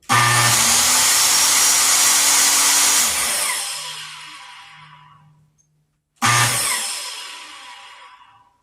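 A Kobalt 15 amp 7 1/4 inch electric circular saw revs up loudly, runs for about three seconds and winds down slowly under its electric brake, then fires once more and spins down again, with no cutting and no talking.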